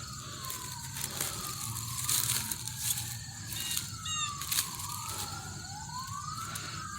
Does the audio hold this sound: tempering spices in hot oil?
no